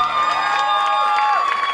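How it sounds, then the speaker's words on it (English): A crowd at a New York Yankees summer party in a brewery cheers and claps over sustained musical tones, a loud, continuous mix of shouts and applause. "Big round of applause for the New York Yankees here."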